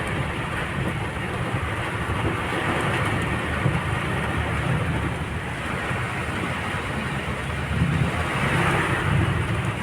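Steady typhoon rain pours down in a continuous broadband hiss, loud and unbroken, with a low rumble underneath, heard on the road.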